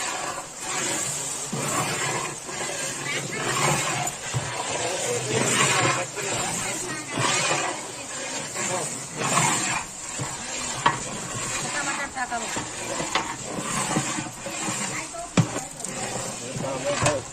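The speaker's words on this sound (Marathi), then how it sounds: "हे बघा आता कढीपत्ता टाकतोय." Curry leaves drop into hot oil with a chili mixture in a large pot of village-style masale bhat for about 150 people, giving a loud, continuous sizzle with stirring scrapes and a voice talking over it.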